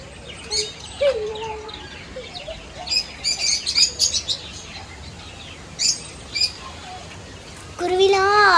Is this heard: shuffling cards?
no